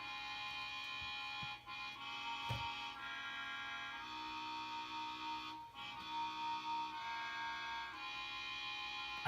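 A music sample from a song, with sustained layered tones and soft percussive hits, held at a fairly quiet level throughout.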